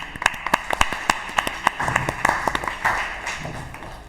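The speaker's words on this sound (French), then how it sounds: "Donc, on peut les applaudir, s'il vous plaît." A small audience at a talk giving a round of applause, individual sharp hand claps spaced unevenly at first, then thickening into a denser patch of clapping before it trails off.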